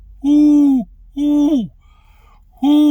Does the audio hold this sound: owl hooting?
yes